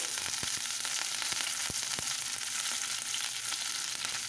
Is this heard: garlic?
yes